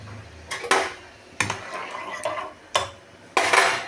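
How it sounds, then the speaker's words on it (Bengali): Tender coconut pieces are mixed into a pot with a spoon, making several sharp metallic knocks and scrapes against the pot at irregular intervals, close and clear with no talking. "তো এবার আমি এটার মধ্যে এই ডাবের কুচিগুলো একটু মিশিয়ে দেব"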